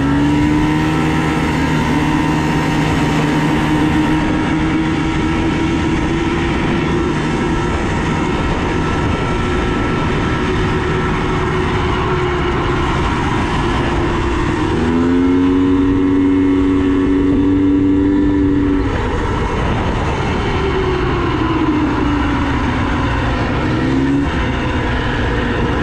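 Polaris Scrambler 250 three-wheeler ridden at speed, a loud steady engine drone with harmonic tones that rise and fall as the revs change, close and continuous throughout with no talk.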